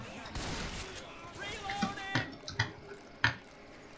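Shotgun blasts in the zombie shooter Left 4 Dead 2, several separate sharp reports spaced about half a second apart over a quiet background, with a voice talking earlier.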